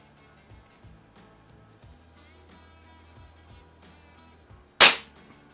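A Baikal IZH-46M air pistol fires a single sharp, loud shot at a 10m target near the end. Quiet background noise and faint tapping come before it.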